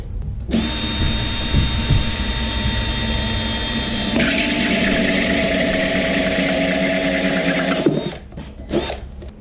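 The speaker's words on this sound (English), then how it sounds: "So I'm going to drill that there." A power drill whines loudly and steadily for several seconds, shifting pitch partway through as it bites in, then winds down with a few short bursts.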